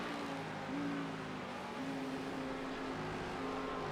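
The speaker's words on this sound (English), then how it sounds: "Although the Audi engine note I think it sounds better in iRacing than it does in ACC" An Audi race car engine in the iRacing sim drones steadily at Sebring, with its pitch rising and falling as the car revs and shifts under a constant mechanical hum.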